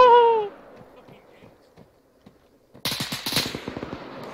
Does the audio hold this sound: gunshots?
yes